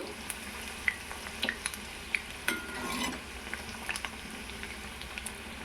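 Chicken pieces frying in a pan, a steady low bubbling sizzle with occasional sharper pops and a brief stirring scrape near the middle, close and moderately quiet.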